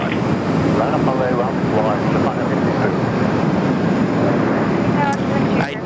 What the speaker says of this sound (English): of the 737 Maxes there in the fleet for Virgin Australia, just rolling out there on runway 16 right